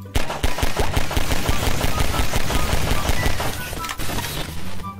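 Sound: fart bomb exploding in video game Garry's Mod

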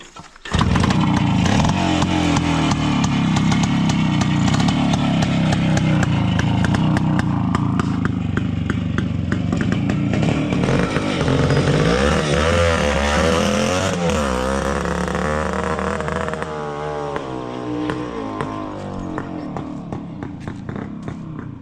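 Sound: Minsk 125 motorcycle engine idling with K68 carburetor

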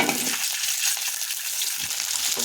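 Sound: onions frying in hot oil

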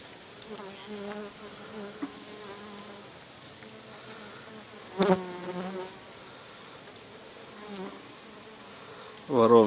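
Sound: bees buzzing

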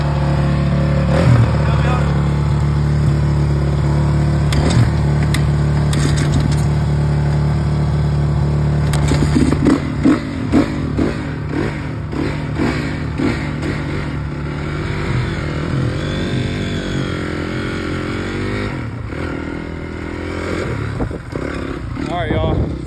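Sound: dirt bike motorcycle engine revving

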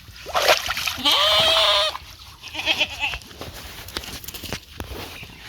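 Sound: sheep being bathed, water splashing

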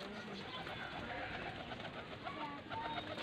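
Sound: pigeons cooing

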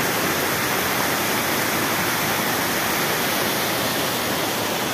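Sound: Cañonalejo river water flowing in the background

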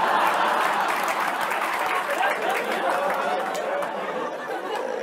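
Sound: crowd of people at a gold shop for Dhanteras

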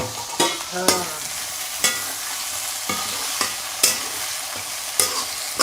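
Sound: onion and tomatoes sizzling while stirred in pan for crab curry

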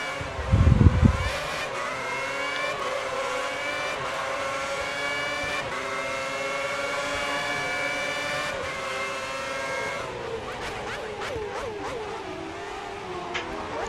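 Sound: Formula 1 cars racing in F1 2010 video game

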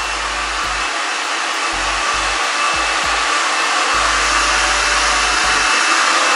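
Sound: hair dryer blowing

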